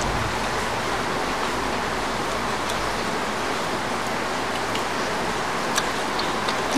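Heavy rain falling steadily during a low-pressure spell, a dense constant hiss filling the scene with faint ticks on top, no talk.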